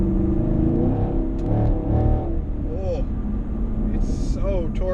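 A car engine revs as the throttle is briefly blipped, a close rumbling surge that rises and settles beneath someone talking.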